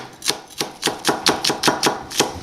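A knife chops onion into tiny pieces on a cutting board for a pizza topping, giving nine crisp, evenly spaced strokes in a steady rhythm, close and clear with no talking.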